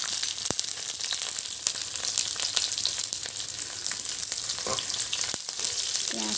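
Onions frying in a pan as they are stirred, a loud continuous sizzle broken by sharp scraping and tapping strokes of a spoon.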